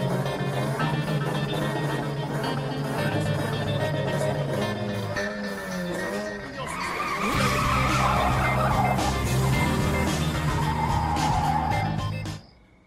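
Race cars starting off at a starting line, loud engine roar with squealing tires skidding and a rising whine midway, sustained throughout before cutting off abruptly.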